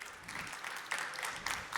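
Audience applause at a Formnext expert talk, a short burst of many hands clapping together, fairly faint and distant, steady for under two seconds.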